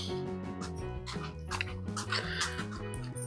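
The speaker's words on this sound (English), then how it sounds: "So, my dog is just kind of walking through here." A nervous dog walks through an indoor room, giving repeated soft whimpers and small yips. The sounds are fairly faint and recur steadily over a tonal background.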